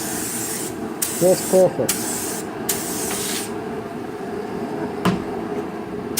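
Short bursts of a spray gun hiss as color-shifting purple-green chameleon paint goes onto a car panel in light coats, several close spray passes with a brief voice speaking between them.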